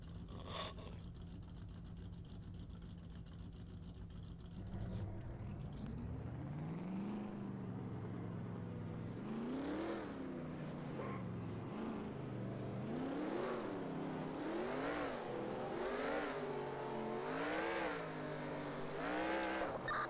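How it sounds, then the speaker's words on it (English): Race car engines in NASCAR Racing 2003 crank to life and then rev hard in a repeating rise-and-fall pattern, loud and sustained, with several cars idling and growling together and no talking. "Drivers, start your engines!"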